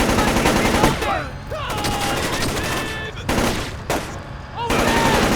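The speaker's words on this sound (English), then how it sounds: "He's taking shots!" Gunfire in Splinter Cell Chaos Theory: loud bursts of shots come in several separate volleys with short quieter gaps, and voices sit underneath.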